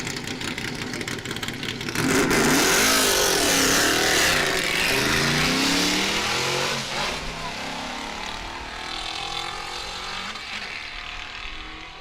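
Rally cars in the SORC 2021 rally at Arnold, Nebraska launch from the start line, engines revving hard and accelerating away loudly and close by, the roar swelling and then fading off over a hill as a commentator talks over it.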